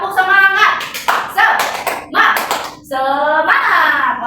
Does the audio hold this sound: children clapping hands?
yes